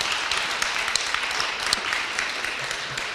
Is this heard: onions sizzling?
no